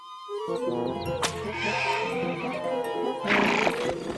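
A horse pulling an old coach gives a loud, close whinny that rises and then trails off, followed by a second shorter neigh. Faint hoof clatter sounds underneath.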